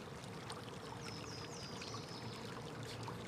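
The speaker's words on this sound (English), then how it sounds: "we'll be pick up the trickling water sound in the background" Water trickling steadily through a woodland stream on a spring nature walk in Rhode Island, a soft continuous babble with faint bird chirps above it.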